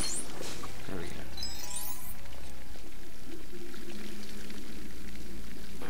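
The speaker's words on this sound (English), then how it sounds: "this water is spraying" Water spraying in LEGO Harry Potter Years 1-4, a steady hiss of spray running throughout with scattered clinks and watery splashes, loud and continuous, alongside game music.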